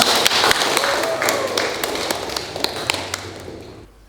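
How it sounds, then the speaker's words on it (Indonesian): Students clapping together in a classroom, a loud close burst of hand claps with sharp individual slaps poking out, tapering off toward the end as a voice is faintly heard underneath. "Ya, tepuk tangan untuk kalian semua."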